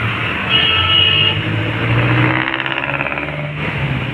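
Traffic moves along Juan Luna Street, with car and truck engines rumbling and revving close by and a brief horn toot, with no talking.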